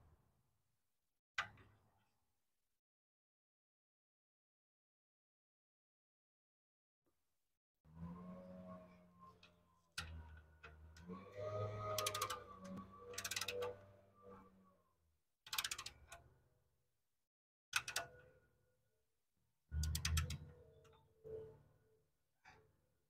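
A ratchet tightens the drain plug back into a manual transmission after a fluid change, giving close, intermittent bursts of clicking separated by quiet pauses.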